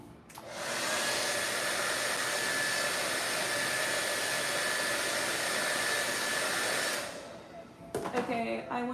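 A hair dryer blows on fresh paint during a painting session: a loud, steady whooshing roar for about six seconds, then it switches off and brief clattering follows.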